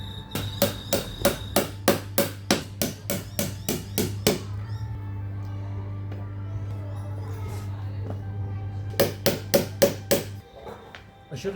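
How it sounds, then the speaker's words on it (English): A hammer strikes a steel anvil in fast, regular bursts of bright ringing blows, pausing midway while a steady low hum continues, then resuming with another quick run of strikes; no speech. "if you strike the surface with a hammer, it will cause a loud ringing sound"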